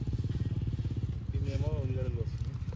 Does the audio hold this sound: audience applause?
no